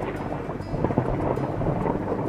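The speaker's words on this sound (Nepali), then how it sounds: "अचानक चट्याङ हान्छ।" A thunder sound effect from a lightning strike near a plane climbing through clouds: a loud, continuous low rumble with a rough, rolling texture, heard alone with no talk.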